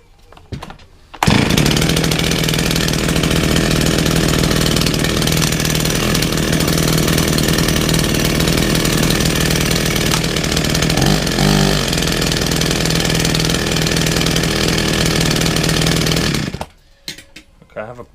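Chainsaw that had been sitting unused, fired up and running steadily for about fifteen seconds, a loud continuous buzzing drone with a slight rise in revs near the middle, starting and stopping abruptly.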